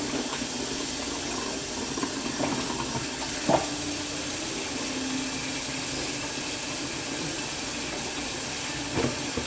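Steady hiss of water running from a tap while hands are rinsed during home baking, continuous and even with a couple of faint clunks.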